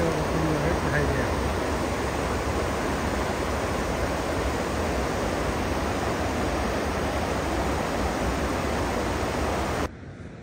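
Water rushes steadily where it is diverted into an irrigation canal, a loud broad continuous roar close by that drops abruptly at the very end.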